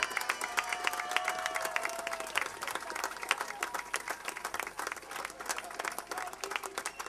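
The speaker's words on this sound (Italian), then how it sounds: "Voglio sentire questo applauso!" Dense applause from an outdoor concert audience at the Transumanze Sonore 2008 festival in Castilenti, steady and sustained throughout with no voices over it.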